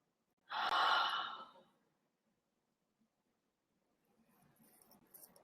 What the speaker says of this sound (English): Now I want you to take a deep breath in.